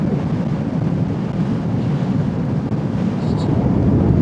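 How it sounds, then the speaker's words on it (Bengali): Wind rushing past a microphone on a long-distance motorcycle ride, a loud continuous low roar and buffeting with no clear voice on top. "অল্প অল্প হাওয়া দিচ্ছে"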